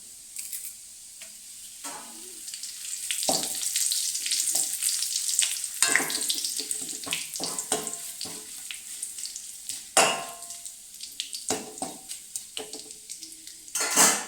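Ginger and curry leaves fry in oil in a pan while cooking for Onam, a steady close sizzle broken by repeated metallic clinks and scrapes of a spoon stirring against the pan, with no talking.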